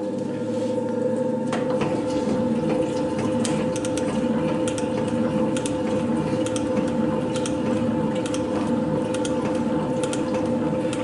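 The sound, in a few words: metal shaper resurfacing a small cylinder head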